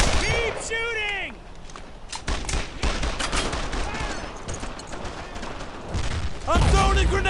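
Dense WWII gunfire in Brothers In Arms: Earned in Blood, with sharp bursts of rifle and machine-gun shots cracking close and loud, while soldiers shout over the firing.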